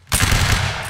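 A massed musket volley fired by a line infantry formation in the video game Mount & Blade: Warband, heard as one sharp, loud crack followed by a dense, sustained rumble of overlapping shots that rolls on for the rest of the second.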